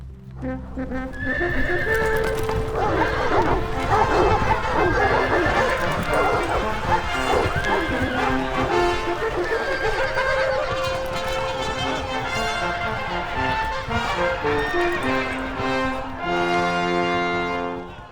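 A horse neighs and its hooves clip-clop on a stage during a live theatre performance of a Shakespeare comedy, the whinnies loud and continuous over a dense mix of sound, with voices under it.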